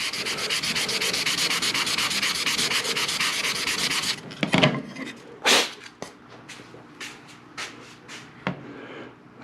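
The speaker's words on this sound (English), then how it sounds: "I'm just wondering what a quick swipe with some sandpaper might do. Alright, this is 400 grit." Laser-engraved wood rubbed with 400-grit sandpaper: about four seconds of steady, rapid back-and-forth scratching, close and fairly loud, then a handful of separate short swipes and scrapes.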